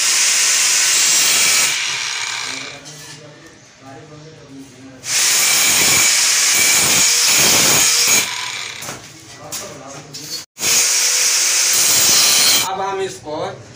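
Tile being cut for a WC platform with a power cutter, a loud, harsh grinding hiss in long bursts with brief pauses, and someone talking between cuts.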